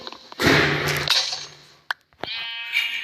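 A Minecraft sheep bleats loudly once in a long wavering cry, followed by a few short clicks and a brief second bleat, with game-like ambience.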